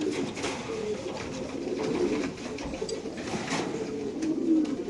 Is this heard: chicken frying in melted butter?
no